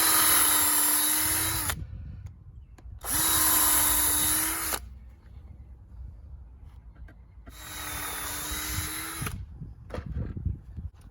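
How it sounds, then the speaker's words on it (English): Power drill boring through material while building a pallet greenhouse, three loud whining bursts of a couple of seconds each separated by quieter pauses with faint handling noise. "you're gonna drill through it"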